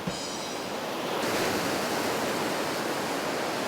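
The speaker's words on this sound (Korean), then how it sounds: "파도가 이렇게 치면은" Ocean waves break on the rocky shore at Jumunjin, a loud, continuous roar of surf and wash that swells slightly after the first second, with wind noise on the microphone and no talking.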